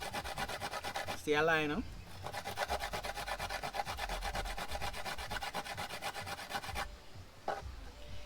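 Coconut rubbed on a hand grater outdoors, a steady rapid scraping rasp repeating throughout, with a brief voice speaking partway through.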